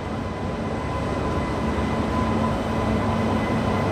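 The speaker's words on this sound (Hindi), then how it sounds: "दूसरी ट्रेन यहाँ अराइव हो चुकी है लुधियाना में" A train pulls into Ludhiana station with a steady, loud low rumble and rolling noise, carrying an even hum throughout with no talk.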